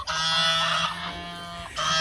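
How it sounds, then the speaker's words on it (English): Loud, nasal goose honks sound close by, with several overlapping calls in a continuous burst, a brief pause, then another honk. "The geese are testifying"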